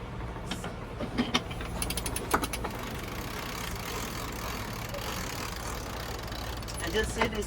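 A sailboat winch ratcheting as the headsail furling line is wound on with a winch handle, heard as bursts of close mechanical clicking over steady wind and engine hum, with people talking nearby.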